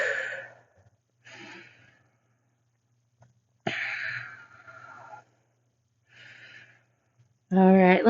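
Slow, deep breaths drawn during a yoga-style arm stretch, several long airy inhales and exhales separated by silent pauses, close and clear, ending in a brief hum of voice.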